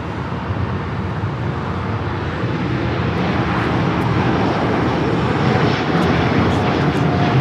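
United flight 1221 jet landing on runway 25 left at LAX, a steady loud roar of aircraft engines heard continuously from the airfield, building slightly over time, with no voices.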